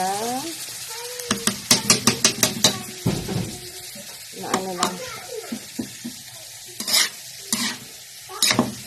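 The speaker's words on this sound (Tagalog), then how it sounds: "habang ginigisa po natin siya" Onion and garlic being sautéed in a pan, with rapid rhythmic spatula scrapes and clacks against the metal over a steady sizzle, close and fairly loud, while a person talks intermittently throughout.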